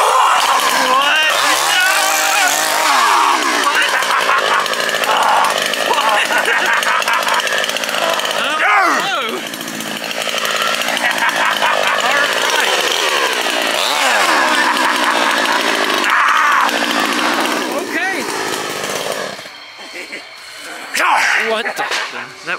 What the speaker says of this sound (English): Chainsaws are so awesome.